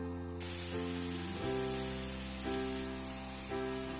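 Chopped vegetables fry in vegetable oil in a hot skillet for a fish-meatball and rice soup, giving a steady, close sizzling hiss that holds evenly throughout, with a faint hum beneath it and no talk.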